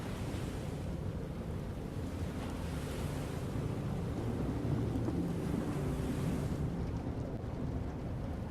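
Steady ocean waves and surf wash continuously without a break, with a broad rushing roar and some wind noise for the whole stretch; no voices are heard.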